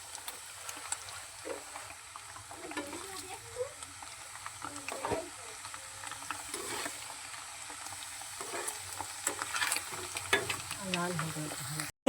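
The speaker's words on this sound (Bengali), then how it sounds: "লাল করে ছাঁকা তেলে ভেজে তুলে নেব পনিরগুলো।" Paneer cubes deep-frying in hot oil, a steady close sizzle with scattered crackles and utensil stirring scrapes running through the whole stretch.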